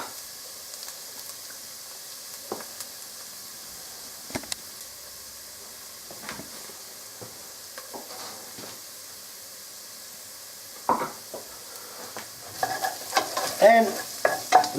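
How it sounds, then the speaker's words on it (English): Onions sauté gently over low heat in a pan, a soft, quiet sizzle under scattered light taps and scrapes of stirring that grow busier and louder toward the end. "we're just going to wait until that sautés through. So just give it a little bit of a stir every now and then so it's not going to stick to the pan"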